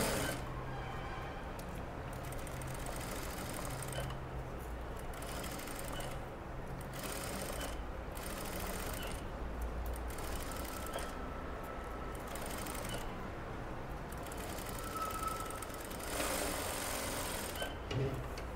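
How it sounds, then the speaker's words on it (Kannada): A sewing machine stitches a designer blouse for an 8-year-old child, running in a steady, fast mechanical whir with short pauses and restarts throughout, close and unaccompanied by speech. "ಇದನ್ನು ಅಷ್ಟೇ ನೀಟಾಗಿ ಸ್ಟಿಚ್ ಮಾಡ್ಕೊಂಬಿಡಿ."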